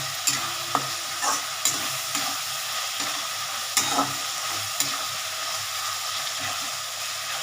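Pieces of katla fish turned with a spatula in a hot oiled frying pan, a loud continuous sizzle broken by sharp metallic scrapes and knocks of the stirring, close up with no voices.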